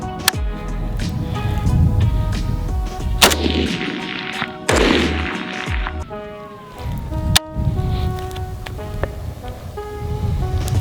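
AK-47 rifle shots fired at a 200-meter target: several sharp, loud single reports spaced a second or more apart, each with a brief ringing tail, over a background of outdoor noise and music.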